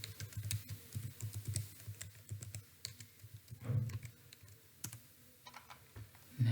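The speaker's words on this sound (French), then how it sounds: "Maintenant, on va taper le mot de passe." Keys clatter on a computer keyboard as an installation password is typed for Autocom diagnostic software, a close, steady run of crisp clicks in uneven bursts with brief pauses, no voices.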